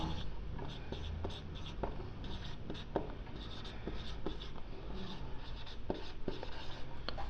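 Pen writing on paper during a Class 9 geometry lesson on quadrilaterals, a steady run of small scratchy strokes with brief taps, close and fairly quiet over a constant low background hum, no talking.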